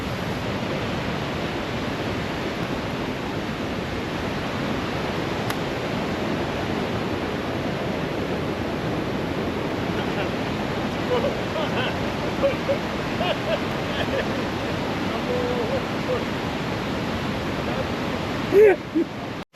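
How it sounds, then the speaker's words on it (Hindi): A small waterfall beside an evergreen village on a Himalayan trek rushes in a steady, dense, unbroken hiss of falling water, close and fairly loud throughout, with a few faint knocks near the end. "एक छोटा सा झरना और साथ में एवरग्रीन गाँव।"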